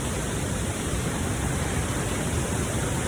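Water rushing over Madongan Falls dam makes a dense, steady roar of broadband noise, loud and unbroken for a few seconds with no other sounds.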